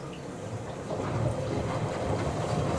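Miele W Classic washing machine rinsing, a steady sloshing churn of water and tumbling drum that grows a bit louder partway through, heard up close without speech.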